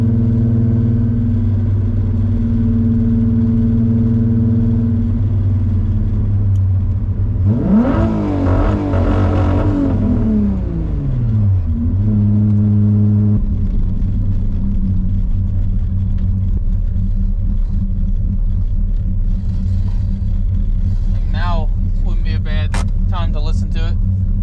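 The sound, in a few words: VR6 engine two-step launch control with Techtonics 288 camshafts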